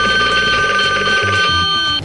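Ringing bell of a telephone, loud and close, a continuous electric trill held for about two seconds with no voices over it.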